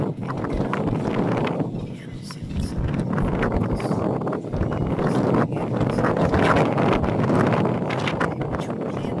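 Strong wind gusting between tall buildings in New York City, a steady loud roar buffeting the microphone for the whole stretch while someone talks over it.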